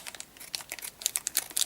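Scissors cut into the sealed plastic packaging of Play-Doh Air clay with quick crinkling, snipping and tearing sounds, a close irregular burst of rustles with no talk.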